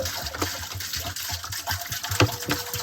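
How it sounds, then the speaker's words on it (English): Water pouring into a boat's bilge while the automatic bilge pump runs, a steady wash of splashing and gushing with a low motor drone underneath, no voices. "And the bilge pump's turning on."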